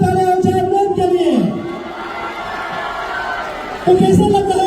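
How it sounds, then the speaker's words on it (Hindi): A crowd at a grand finale event cheers and claps for a Bollywood actress guest, a broad roar of voices and applause swelling between an amplified host's talk at the start and end. "जोरदार तालियां हो जाए मैम के लिए।"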